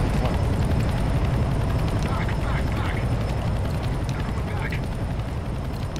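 A helicopter flies in a video game: steady, dense rotor and engine roar fills the whole stretch at constant loudness.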